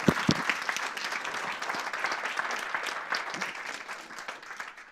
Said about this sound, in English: Okay, so big round of applause.